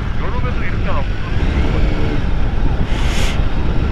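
Wind blows hard at a seaside harbor, a loud, blustery rush buffeting the microphone throughout, with a brief gusting swell near the end.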